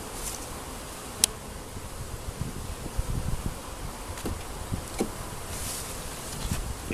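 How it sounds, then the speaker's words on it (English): Honey bees buzzing around an open hive during an inspection, a steady close hum with scattered sharper passes and faint rustling, no voices. "that's bees doing their thing"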